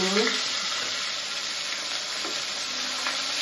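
Catla fish frying in hot oil, a loud continuous crackling sizzle close up, with faint stirring or scraping noises now and then.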